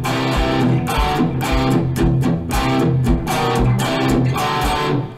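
A heavily distorted electric guitar plays a chugging riff, alternating tight palm-muted hits with open ringing notes, loud and close, no voices.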